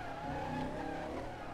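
Car drifting in the Crackdown video game, a steady roar of engine and skidding tires that holds level throughout, with no talk.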